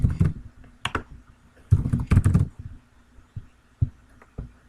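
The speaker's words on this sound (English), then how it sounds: "And yes, you can hear me typing." Keys clatter on a computer keyboard in uneven bursts of typing with short pauses, close and fairly loud, no voices.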